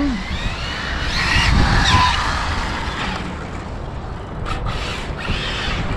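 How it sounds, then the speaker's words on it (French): An Arrma Infraction 6S electric RC car skids through a handbrake turn on a parking lot, a loud tire scrub over motor whine, followed by brief squeals and the electric motor running on. "quand tu fais un coup de frein à main"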